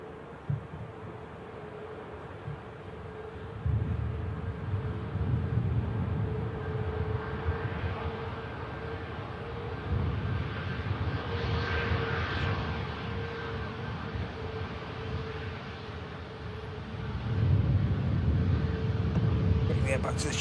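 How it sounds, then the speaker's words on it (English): At an airport, an aircraft departing for Fuerteventura in the Canary Islands produces a broad, rumbling engine roar that swells and fades, with a voice talking over it. "this aircraft is heading out to Fuerteventura in the Canary Islands"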